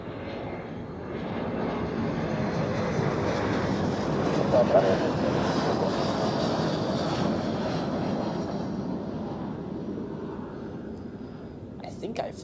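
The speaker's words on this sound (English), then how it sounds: "So, here we have this Embraer," At Zurich Airport an Embraer private jet sends out a steady, moderately loud engine roar and whine throughout, with soft, whispery speech beneath it and a brief clatter at the very end.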